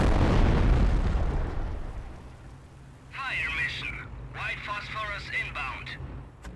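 A mortar barrage in Company of Heroes opens with a heavy, rumbling blast that slowly fades, followed by voices speaking over a lingering low battlefield rumble.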